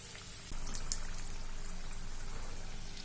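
Onion samosas deep frying in hot oil, a steady bubbling sizzle that swells in loudly after a brief quieter moment and continues close and constant.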